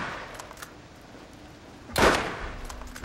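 A repeater pistol fires in the video game Borderlands, one loud, close crack standing out midway through otherwise quiet background ambience.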